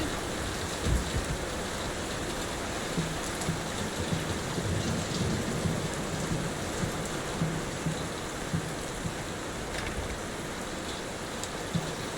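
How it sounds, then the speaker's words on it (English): Steady heavy storm rain in the video game Layers of Fear, a constant dense hiss of rainfall with occasional faint low rumbles, no voices. "Will this storm ever run out of rain?"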